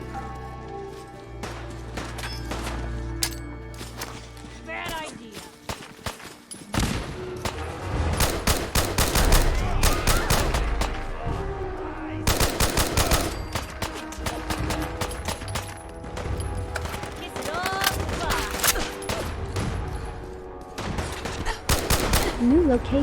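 Gunfire in Fallout 4 Far Harbor comes as dense, rapid bursts of shots with sharp cracks throughout, repeated volleys mixed with game effects and occasional speech.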